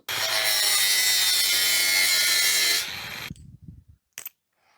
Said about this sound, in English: I'm just going to hit some of these with the grinder, and where I can cut parts off easily I will